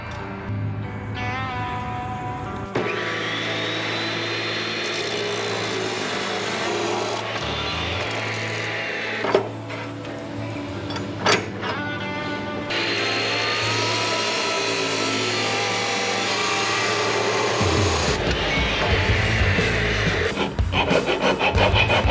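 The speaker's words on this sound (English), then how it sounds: "We gotta cut the housing size, we gotta cut the spacer to size" Kart axle housing and spacer are cut to size with steady rasping, back-and-forth sawing strokes, close and continuous for over twenty seconds, with pauses, a couple of sharp knocks and a changing, grinding tone as the cut progresses.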